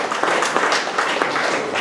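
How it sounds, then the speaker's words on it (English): An audience claps for a married couple who have been together 43 years, a short burst of dense clapping at moderate level, steady and without talk. "Give them a round of applause."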